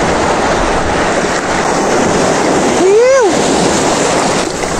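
Shallow ocean surf rolling in near a rocky shore, a loud continuous wash of waves with wind buffeting, and a brief voice-like tonal sweep midway.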